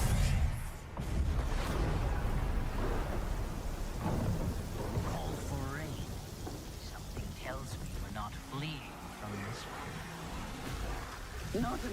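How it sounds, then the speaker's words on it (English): A video game trailer shown at Gamescom Opening Night Live carries a loud thunderstorm with heavy rain and rolling rumbles throughout, with a voice speaking over the storm. "Call for rain."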